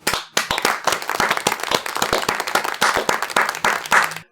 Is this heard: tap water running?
no